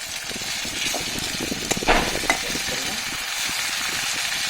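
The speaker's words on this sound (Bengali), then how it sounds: "তো এখন আমি যেটা অ্যাড করবো সেটা হচ্ছে একটা টমেটো।" Tomato goes into onions frying in a pan and is stirred with a spatula, producing a continuous close sizzle with scraping stirs and a few louder clinks, with no talking.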